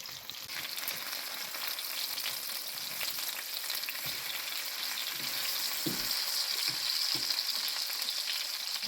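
Chicken patty rings set inside bell pepper rings fry in a pan with a steady, close sizzle, broken by a few soft scrapes and knocks as they are turned; no one speaks.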